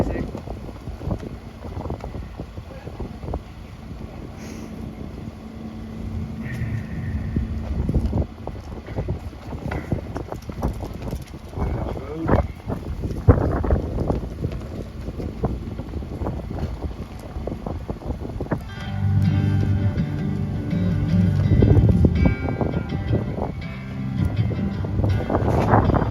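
Gusty wind blowing outdoors at an evening vigil in Washington, D.C., a steady broadband rush buffeting the microphone, with people talking and a burst of music joining near the end.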